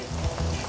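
Plantain frying in a pan of oil gives a steady, close crackling sizzle that holds evenly through the brief moment with no voices.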